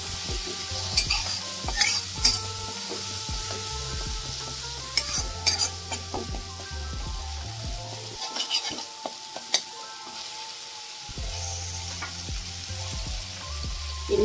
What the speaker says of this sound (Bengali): মশলাগুলোকে একটু ভালো করে নাড়াচাড়া করে নেব।